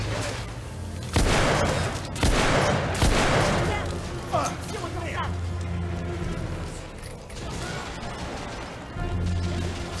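Submachine gun fire in The Order: 1886 comes in several sharp, loud bursts and crashes over a steady low drone, with someone talking throughout.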